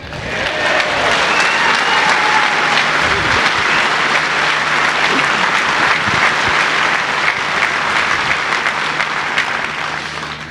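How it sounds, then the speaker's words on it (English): A large audience applauds after a political speech, a dense, steady roar of clapping that holds loud and even for about ten seconds before tapering slightly at the end. "Thank you for your applause."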